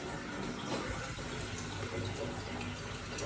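Water runs from a bathtub tap in a hotel bathroom in Ha Long Bay, Vietnam, a steady moderate rushing splash that holds even throughout with no voices over it.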